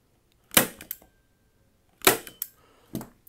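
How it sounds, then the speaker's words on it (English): A staple gun drives staples through stretched canvas into a wooden frame, three loud sharp snaps with short rattling tails, well spaced and close by. "So I'm going to just tension the side closest to me and put in a couple of staples"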